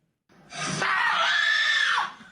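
A person screams loudly and alone, a single sustained high-pitched cry lasting about a second and a half that rises sharply and holds before cutting off.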